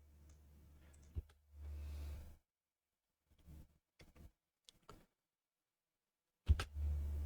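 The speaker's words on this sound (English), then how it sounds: "So click and drag." Computer mouse clicking and dragging while editing in CapCut Desktop: a handful of sharp, isolated clicks spaced apart, close and quiet, separated by near-silent gaps.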